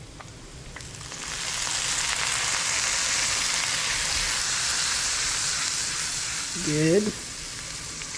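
Minced garlic sizzles steadily in a hot pan for a pork katsu bacon jam, a dense broadband frying hiss that holds throughout, with a short spoken word near the end.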